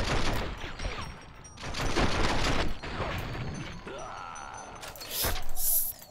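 Rapid bursts of gunfire fill a combat scene in the Matrix: Path of Neo video game, loud shots and automatic fire repeating in clusters with impacts and a boom near the end.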